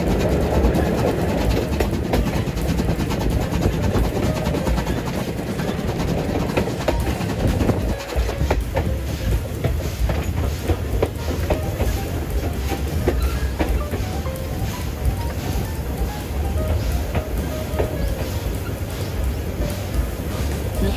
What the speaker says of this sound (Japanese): このシュッシュって音、これが SL だよね